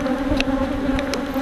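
Honey bees hum around an open beehive during hive maintenance, a steady close buzz with many overlapping wingbeats and no voices.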